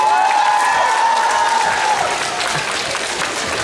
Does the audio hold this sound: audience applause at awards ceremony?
yes